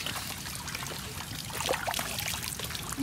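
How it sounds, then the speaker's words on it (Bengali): Water wells up and flows from a clean natural well in Sunamganj, a close, continuous trickling and pouring with a few small splashes. "ওখান থেকে পানি উঠছে"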